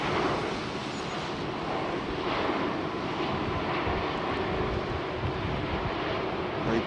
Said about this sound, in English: Very calm, relaxed approach and landing.